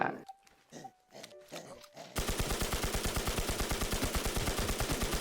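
Rapid gunfire shooting zombies in a video game, a steady burst of evenly spaced shots after a few seconds of quieter game sounds, loud and close.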